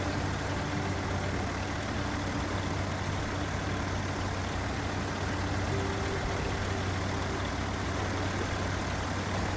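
A heavy truck engine in a video game drones steadily and loudly throughout, a constant low rumble with no talking.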